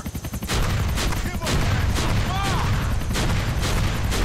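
Gunfire in Grand Theft Auto: Episodes, with rapid, loud bursts of shots continuing almost throughout, close and heavy, mixed with other game sound and a brief whistling sweep.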